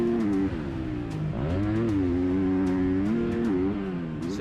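Motocross bikes racing around a dirt track, their engines droning and shifting pitch as riders throttle through turns and rollers, loud and continuous for several seconds.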